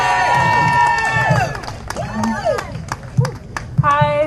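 A crowd at a Houston march against the state takeover of Houston schools cheers and applauds for a student speaker, with overlapping whoops, shouts and scattered clapping nearby, loud and lively throughout.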